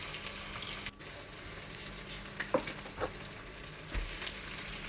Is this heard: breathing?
no